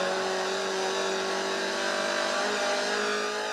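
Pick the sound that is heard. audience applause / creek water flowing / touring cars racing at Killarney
touring cars racing at Killarney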